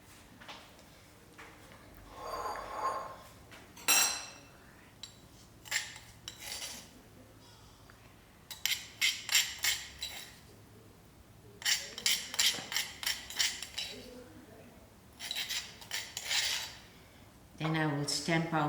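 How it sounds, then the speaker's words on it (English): Garlic, curry leaf and green chilies pounded with a pestle in a mortar: bursts of rapid, sharp knocking and clinking strokes repeat in clusters, fairly close, with quiet gaps and some talk between. "I added in my garlic and my curry leaf and my green chilies. Now it's almost stamped."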